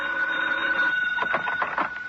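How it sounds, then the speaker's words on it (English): A telephone rings in a hotel room in a 1953 radio drama, a steady electric bell tone heard at moderate level through an old broadcast recording, with no talk over it. "had just about decided to have some food sent up to the room when the phone rang"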